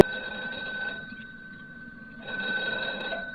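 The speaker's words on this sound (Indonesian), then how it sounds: "telepon dinding tua yang terdapat di sebuah dalam kamar tersebut" An old wall telephone rings in a room with a bright, sustained metallic bell tone that pauses briefly midway and then resumes, fairly loud and with no talking.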